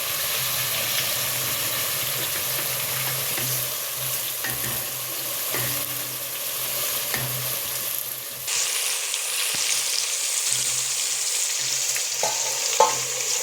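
Grated coconut roasts in a hot pan with a steady, dry sizzle and frying hiss. Scattered scrapes and taps of a stirring spoon come through, close up, with no talking.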